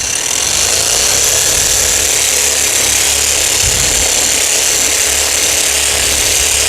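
A power sander works over wooden shutters, giving a steady, loud, unbroken whir and hiss that runs the whole time with no speech.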